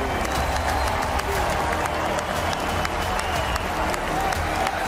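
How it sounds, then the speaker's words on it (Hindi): A stadium crowd at a Trump rally claps and roars continuously, a dense, steady wash of applause and crowd noise that has a distant, broadcast quality. "स्टेडियम शोर तालियों और ट्रंप के नारों से गूंज उठा।"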